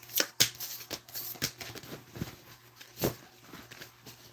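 Tarot cards are shuffled close by, giving soft irregular riffles and slaps with quiet gaps between the bursts.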